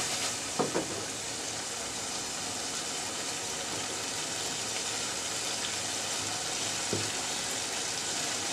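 Small mixed fish fry in oil in a pan while being stirred, producing a loud, steady, close hiss of sizzling with a couple of faint utensil knocks and no speech.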